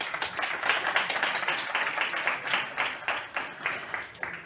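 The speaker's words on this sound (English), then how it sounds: "Please be welcome on stage. A big applause." Audience at a digital talent summit applauding a speaker taking the stage, a dense run of individual claps with a slightly uneven, pulsing rhythm, moderately close and without talk.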